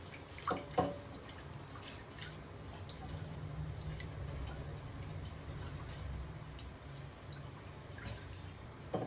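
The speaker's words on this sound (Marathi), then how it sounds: "तर राईस आधी चांगलं धुवून घेऊयात।" Uncooked rice washed in water in a home kitchen, heard as faint sloshing and light drips at low volume, with a couple of sharper knocks near the start and no voices.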